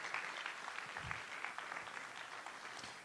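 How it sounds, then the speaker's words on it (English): An audience at a marine chemistry symposium claps in a sustained round of applause, fairly distant and even, with a low murmur beneath. "how about one more round of applause for tonight"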